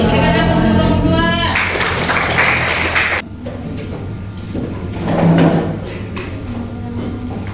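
An audience in a classroom applauds group 2 after their presentation at a teacher performance assessment. A brief, dense burst of clapping fades into quieter room noise and murmuring.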